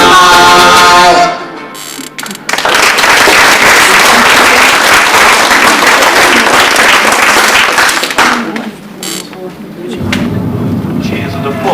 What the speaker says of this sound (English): Cheers and applause from supporters standing outside.